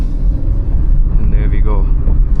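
A Hyundai i20 sounds its horn at a blind turn on a narrow mountain road, a couple of short honks in the middle over engine rumble while the driver keeps talking.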